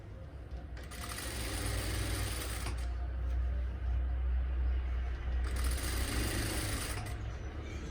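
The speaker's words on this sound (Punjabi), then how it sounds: "ਬੁਕਰਮ ਦੇ ਨਾਲ ਨਾਲ ਮੈਂ ਸਲਾਈ ਲਗਾ ਲਈ" A sewing machine stitches a salwar hem along buckram with a steady close whir that surges louder in two longer runs and dips briefly between them.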